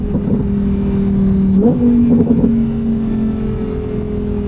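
A 640 hp rear-wheel-drive V10 car engine revs on a downshift, a steady close drone that jumps sharply in pitch with a blip, then settles into a loud sustained hum with no talking.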